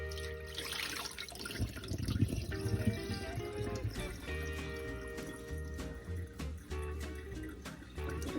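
Water running and trickling from soaked raw chicken being drained in a kitchen sink, a steady faint pour with splashes and drips, no voices.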